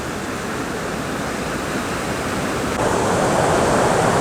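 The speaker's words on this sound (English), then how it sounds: "So that's a fairly good sized fall right there." A fairly good sized waterfall on a river of Wisconsin's Bayfield Peninsula gives a constant close, rushing roar, steady throughout and growing a little louder near the end, with no voices over it.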